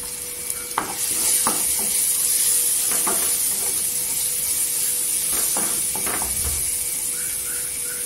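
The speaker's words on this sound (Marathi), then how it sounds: "मसाला तेलावर परतून घ्यायचा" Spices, including turmeric, Kashmiri red chilli and Agri masala powders, sizzle and hiss steadily in hot oil, with occasional stirring scrapes breaking through the constant frying sound.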